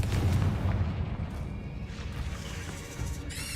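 Confringo spell cast in Hogwarts Legacy, a booming fiery blast with rumbling low-end impact that gradually decays, followed by a brief bright magical shimmer at the end.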